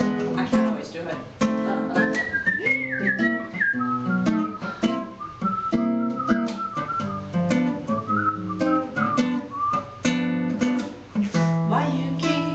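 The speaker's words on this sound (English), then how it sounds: "This is where I have the whistle instrumental." A person whistles a clear melody as the instrumental part of a song, shifting pitch in phrases over a steady accompaniment, loud and close throughout.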